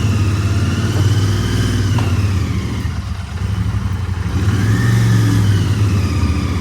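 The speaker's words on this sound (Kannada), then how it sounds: "ನಾನು ಮಾತಾಡಿದ್ದು ನಿಮಗೆ ಕೇಳತ್ತಾ ಗೊತ್ತಿಲ್ಲ ಈ ಬೈಕ್ ಸೌಂಡಲ್ಲಿ" A motorcycle engine drones loud and close during a ride, holding a steady mid-pitched hum with slight rises and falls in revs and a brief dip near the middle, and no voices over it.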